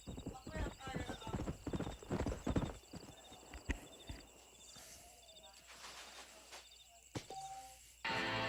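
Horse hooves clip-clop steadily and a horse whinnies in Red Dead Redemption, with someone speaking over the hoofbeats. The galloping thins out toward the end, where a loud steady hiss takes over.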